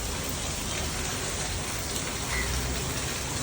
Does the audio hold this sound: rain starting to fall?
yes